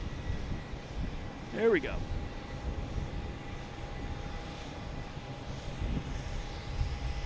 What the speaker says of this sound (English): there's a JetBlue coming in from Nantucket